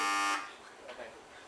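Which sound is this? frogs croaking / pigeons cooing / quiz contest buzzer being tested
quiz contest buzzer being tested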